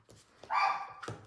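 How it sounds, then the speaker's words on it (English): A pet dog, a female, gives a single bark or yelp indoors, fairly close, standing out briefly against a quiet room with faint background noise. "Sorry, that's my dog barking."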